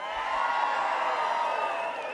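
A large crowd roars and cheers at a political campaign rally on a Super Tuesday night, a sustained, slightly distant wall of voices with whoops rising and falling throughout.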